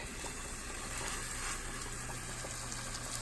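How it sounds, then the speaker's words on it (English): Steady, crackling sizzle of floured lamb shanks browning in hot oil in a frying pan, close and continuous, with no voices. "Okay, you hear it sizzling?"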